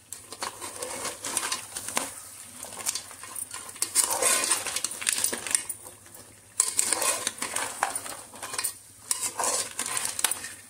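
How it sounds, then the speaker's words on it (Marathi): Crabs stirred into masala in a cooking pot for a village-style crab curry make intermittent scraping and clinking of a spoon against the pot, with soft patter and faint birdsong in the background. "सर्व चिंबोऱ्या आता मी मिक्स करते"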